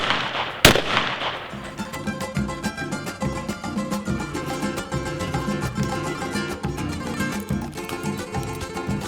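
A single sharp, loud blast from a 20 gauge shotgun firing a reloaded hull cracks out near the start. It is followed by a dense, continuous tonal background that sounds like music.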